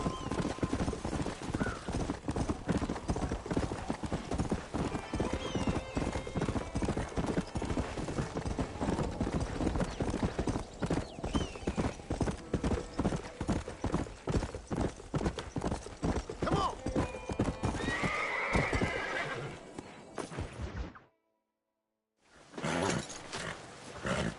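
Horses galloping in the Red Dead Redemption video game, with steady, close hoofbeats running almost throughout, occasional neighs and animal cries, and voices calling over them before a brief silence near the end.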